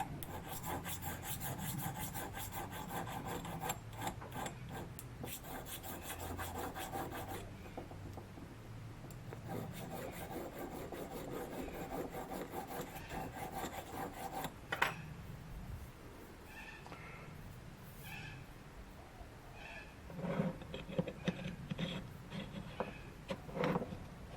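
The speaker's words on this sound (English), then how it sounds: "A little bit of deburring." A metal tailstock quill for a Gingery dividing head is deburred by hand in a workshop, giving long stretches of close scraping and rasping strokes, then quieter intermittent filing.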